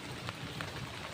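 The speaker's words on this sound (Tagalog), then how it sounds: "Malakas yung ulan dito mga idol." Heavy rain falls in a steady, dense wash of broadband hiss, with a few brief louder splashes on top and no voices.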